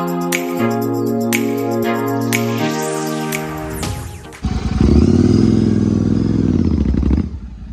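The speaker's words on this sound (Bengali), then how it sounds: "আমরা বাইক নিয়ে সাইড দিয়ে উপরে চলে এলাম।" A Super Meteor motorcycle climbs up along the side of a road, its engine a steady loud drone that deepens and grows heavier near the end as the ride continues.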